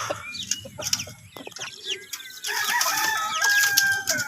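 A Rhode Island Red hen clucks up close with a run of short clucks and drawn-out squawking calls, and other fowl sound around it in a busy, lively stretch.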